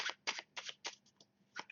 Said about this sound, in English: You can even give it an overhand shuffle